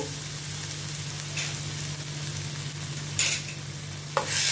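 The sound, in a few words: chopped onion and green chillies sautéing in a pan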